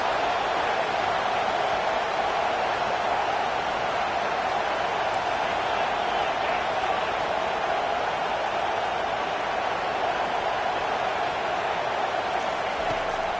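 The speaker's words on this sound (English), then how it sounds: "This crowd trying to make life miserable for this offense." A large football stadium crowd at a Tigers versus Badgers game, a continuous loud roar of cheering and noise, steady throughout.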